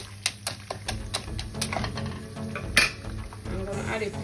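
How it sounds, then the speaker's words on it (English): Caramel for popcorn being stirred in a pot brings clinks and scrapes of a utensil against metal, a few sharp knocks, and a low hum underneath, all close and fairly quiet. "I'm gonna stir it."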